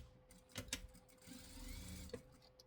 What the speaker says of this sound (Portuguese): agora a gente vai passar uma costurinha aqui